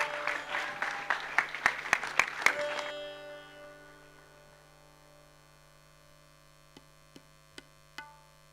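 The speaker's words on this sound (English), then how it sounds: "Another round of applause." Audience applause at an evening music program during a festival week in Cabella, Italy, a dense patter of clapping for the first three seconds that fades away, leaving steady hum and a few isolated faint knocks.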